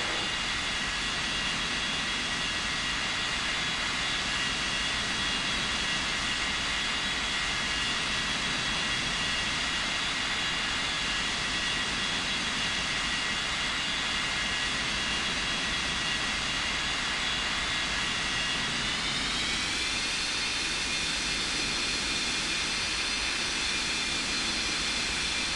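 A steady, loud jet-engine drone from an aircraft taxiing to the gate in the iOS game Unmatched Air Traffic Control, with Boeing 737 and Airbus A320 airliners. The whine holds constant, then its pitch rises slightly near the end, with no speech.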